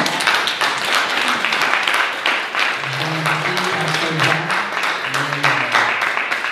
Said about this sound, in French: Peut-être juste l'applaudir quand même